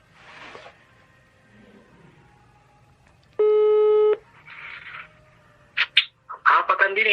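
Telephone call tones on a line that gets rejected: a steady tone burst partway through, followed by short beeps, under faint background sound, with people talking toward the end.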